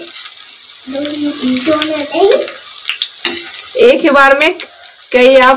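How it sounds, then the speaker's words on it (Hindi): Small fish frying in hot oil in a pan, crackling and sizzling underneath a person talking, with scraping and stirring noises between the phrases. "इस तरीके से आपको तैयार कर लेना है और सारे फ्राई कर लेना है एकदम ब्राउन कलर का।"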